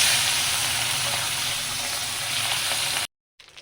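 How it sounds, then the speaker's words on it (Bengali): Pabda fish frying in hot oil in a kadai, a steady dense sizzling hiss for about three seconds that cuts off abruptly into near silence, with a brief faint sound returning at the end. "আমি এবার মাছগুলো ভেজে নেব।"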